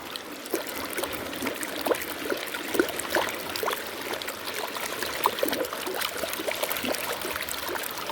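Water sloshing and splashing in a Turbo Pan while gold panning, a steady close wash of churning water dotted with small clicks and splashes, with no one speaking.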